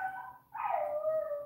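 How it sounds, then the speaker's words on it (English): A dog makes a drawn-out whining, yelping vocal sound indoors, two sustained tonal cries with a brief dip between, fairly close and loud. "So you're hearing the dog now."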